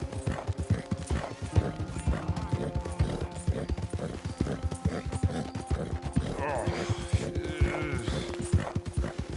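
Rapid, steady clip-clop of horse hooves trotting in the video game Red Dead Redemption 2, with a brief bleat-like animal call near the end and a voice speaking faintly underneath.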